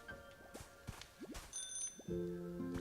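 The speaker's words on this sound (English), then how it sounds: "it makes a little bell sound" A small chiming bell sound comes from an object in the video game Pokopia, a brief bright ring near the end of the clip after a few soft whooshing game effects, clear and fairly close.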